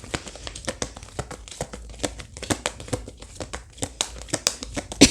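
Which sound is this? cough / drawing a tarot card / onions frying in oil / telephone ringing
drawing a tarot card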